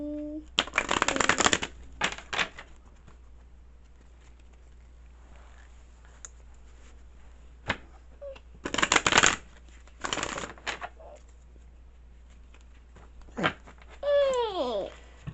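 Several bursts of cards being shuffled, crisp riffling rattles separated by quiet gaps, with a short whistling chirp near the end.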